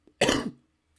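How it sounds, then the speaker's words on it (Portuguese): A single harsh cough bursts out close to the mic during a Portuguese Bible lesson for teenagers, lasting about a third of a second before quiet returns. "ainda não estou bem, desculpa a tosse."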